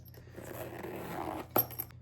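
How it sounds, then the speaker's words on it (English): The zipper on a new chocolate-brown Marge Sherwood Korean purse gets pulled along the main compartment, a faint soft scraping run ending in a short sharp metallic click and rustle, close and quiet with no voices. "That way I have just one smooth zip to get right into the main compartment."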